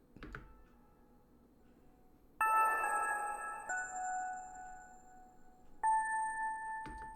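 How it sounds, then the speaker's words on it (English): Two bright bell tones in a melodic trap beat ring out, the first sustaining and decaying slowly, a second strike joining near the end, clear and close over a quiet background. "the next sound that we've got is a bell"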